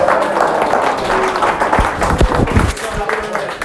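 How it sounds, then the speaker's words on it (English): Applause from a small audience at a comedy set in a taproom, a steady wash of clapping with crowd murmur and a few louder claps near the end. "I'm putting that applause in after every single joke when I edit this"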